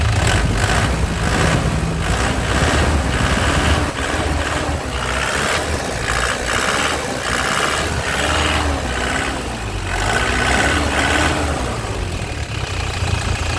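A 2009 LS Turbo car engine, brown metallic, runs close and steady with a low, even throb and no clear rev climbs, with no talk over it.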